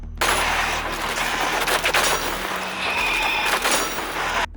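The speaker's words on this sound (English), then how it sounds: "Destroying enemy weak points." Doom Eternal combat sounds for blasting out enemy weak points: dense, loud metallic clanks and gunfire bursts packed together over a heavy low rumble, with a brief ringing tone near the end.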